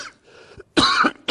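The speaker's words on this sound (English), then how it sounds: "it's just a cough because of the heat" A man coughs twice, short loud bursts close to the mic, with a softer throat-clearing sound just before, in a studio under hot lights.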